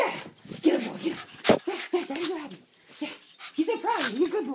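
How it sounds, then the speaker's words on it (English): A dog watching at a window whimpers, yips and whines in short, uneven bursts, close and fairly quiet, with some wheezy breathy sounds between the cries. "My dog is up there waiting, watching, stalking, ready to kill."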